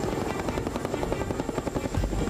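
A military helicopter flies nearby, its rotor blades chopping in a rapid, steady rhythm that is loud and close, with no voices over it.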